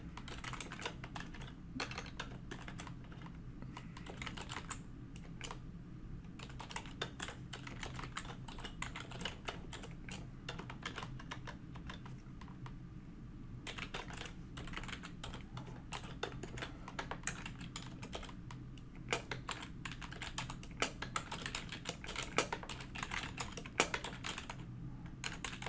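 Continuous typing on a computer keyboard while writing Linux kernel module code, rapid quiet key clicks in uneven bursts over a low room hum, lasting the whole stretch.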